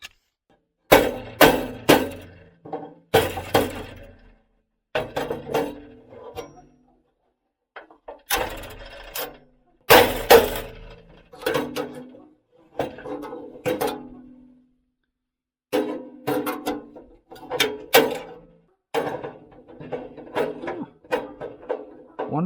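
A hole is punched through for an RV power plug at a camper pad. Irregular bursts of metallic clanking, cranking and knocking come in clusters with pauses between, close and fairly loud.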